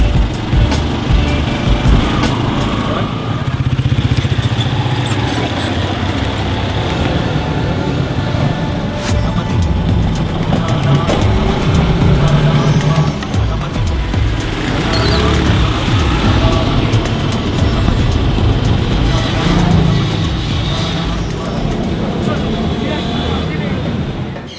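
An auto rickshaw rattles through busy Lahore traffic in Pakistan, its small engine droning loudly and steadily along with road noise, while people talk now and then over the ride.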